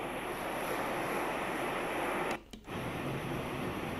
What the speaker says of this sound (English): Another surf.